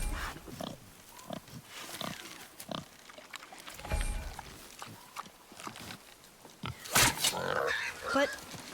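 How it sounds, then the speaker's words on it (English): Wild boar in the video game God of War (2018) snorting and grunting in short scattered bursts amid rustling and game sounds, with speech heard in places. "The wild boar's hide is thick."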